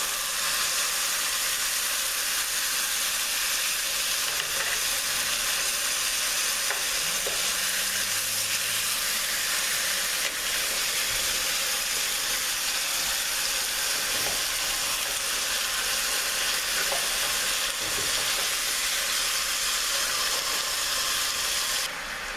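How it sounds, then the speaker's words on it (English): Pork chops frying and browning in a hot pan for braised pork chops and onions, a steady, dense sizzle and hiss of hot oil holding constant throughout, with a few faint clinks underneath. "we're gonna turn our pork chops over and let them brown on the other side"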